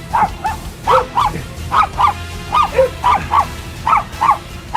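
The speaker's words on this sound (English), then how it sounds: "my dog Boomer is going on a series of dates with famous dogs" A dog named Boomer barks nearby in a steady rhythm, mostly in quick pairs, about ten barks in all, with no talking.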